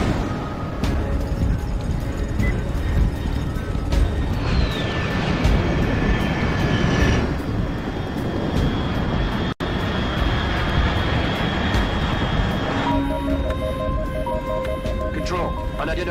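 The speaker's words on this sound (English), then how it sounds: "Control, unidentified aircraft detected." Aircraft engine roar in the stealth action video game Metal Gear Solid Delta: Snake Eater, a steady, loud, continuous drone that holds for the whole stretch, with a brief cutout near the middle and a tonal shift toward the end.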